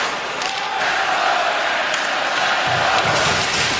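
Loud, dense hockey crowd roaring and hollering throughout a 2010 World Junior Championship gold medal game between Canada and the United States, a steady wall of arena noise with rising shouts near the end.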